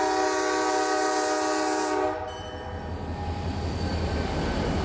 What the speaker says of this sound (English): another Brewster West local job departs into the darkness to pick up the loads from Smithville